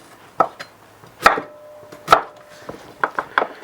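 A knife cubes vegetables on a cutting board for a green chile pork stew. Several sharp chops land close by in an uneven rhythm, spaced out at first and then coming quicker near the end, with no voices.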